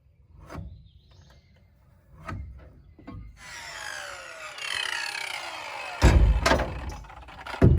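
A hand saw rasps through wood on a 30-degree cut, starting with a few scattered strokes that build into steady back-and-forth sawing, louder toward the end.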